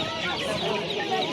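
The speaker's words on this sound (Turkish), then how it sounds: "Ördek bu bakın." Young poultry, a four-day-old duckling among birds at a poultry market, gives a continuous chorus of high peeping and cheeping calls, close and dense, with people talking nearby.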